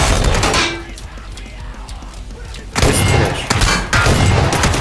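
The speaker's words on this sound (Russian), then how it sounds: "По мне стреляют уже." Gunfire in the video game PUBG, dense bursts of loud shots with booming impacts, heavy and continuous through most of the stretch, swelling again toward the end.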